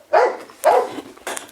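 A dog barks twice in clear, evenly spaced woofs, then a third shorter bark follows, close and fairly loud with nothing else competing.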